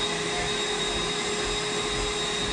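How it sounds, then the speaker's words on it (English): A mini vacuum sweeper runs with a steady, loud, unbroken whir and a faint high whine, close by with no talking. "the more that you clean with a vacuum sweeper, the more that the filter gets clogged"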